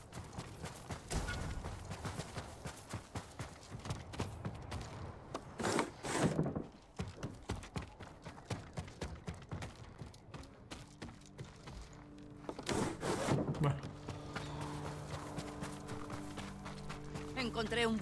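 Horse hooves clip-clopping in Ghost of Tsushima, a steady rhythmic trot running throughout under game music and someone talking.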